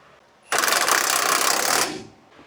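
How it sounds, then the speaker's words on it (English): A socket wrench with a 10 mm socket ratchets quickly on a brake line bracket bolt of a Ford F-150, one continuous close clicking burst lasting just over a second. "Tightening up the other brake line bracket. Same socket, 10 millimeter."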